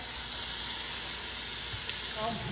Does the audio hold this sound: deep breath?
no